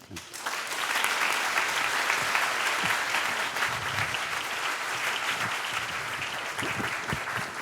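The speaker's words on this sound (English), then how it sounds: "Let's give a very, very round, warm applause to Mr. Richard Bush." Audience applause in a lecture hall, sustained, even clapping from a large crowd for several seconds after an introduction, fairly distant and steady, with faint voices underneath.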